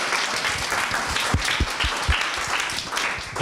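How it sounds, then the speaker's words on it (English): Audience clapping after a talk, a short burst of applause from a gathered crowd, moderately loud and steady for a few seconds with no voices. "You can clap on that."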